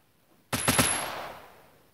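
A gunshot in the mobile video game Unturned, one sharp loud report with a quick double crack that trails off into a long fading tail, with silence before it.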